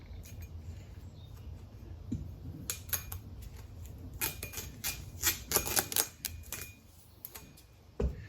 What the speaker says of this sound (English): now you remove it, the tape